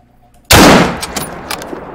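A single loud rifle shot fired at a blacktail deer in theHunter: Call of the Wild, sharp and sudden after quiet, then a ringing decay with faint echoing reports.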